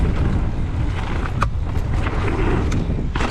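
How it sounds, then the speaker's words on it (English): Strong gusty wind buffets the microphone while riding an Orbea e-bike on fast dirt trails in high winds, a steady low roar with faint rattles and brief higher clicks throughout. "That wind is just putting me off"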